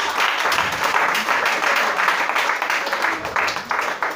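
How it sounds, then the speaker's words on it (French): Congregation at a worship service applauding the Lord, dense sustained clapping and cheering filling the space steadily, with voices mixed in throughout. "On acclame le Seigneur."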